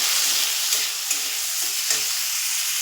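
Tomatoes, garlic, onion, dried chillies and cashews with a little salt sizzle in a pan, a bright hissing fry with a few soft knocks and scrapes from stirring.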